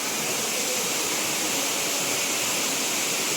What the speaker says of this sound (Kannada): ಆ್ಯಂಡ್ ಈ ಸೈಡ್ ವಾಟರ್ ಫಾಲ್ಸ್ ಇದೆ.